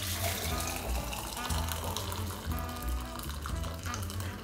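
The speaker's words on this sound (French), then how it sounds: "À l'aide d'un chinois, filtrez votre bouillon." Broth strained through a chinois into a container for a paella stock, a steady close pour of liquid running and splashing continuously throughout with no voices.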